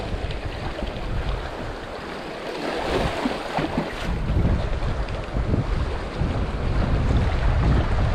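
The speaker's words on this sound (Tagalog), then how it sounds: "malakas lang ang hangin" Strong, gusty wind roars against the microphone on a rocky shore at low tide, with surf and water washing in the background; the blustery noise swells and builds steadily.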